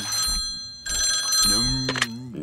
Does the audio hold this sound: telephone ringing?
yes